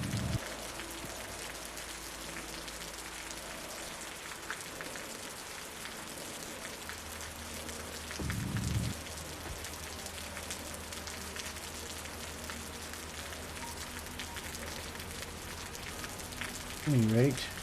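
Rain pattering steadily in the survival game Osiris New Dawn, a soft constant hiss with occasional low thumps and brief tonal game noises, while someone talks now and then.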